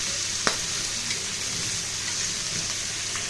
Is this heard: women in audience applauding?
no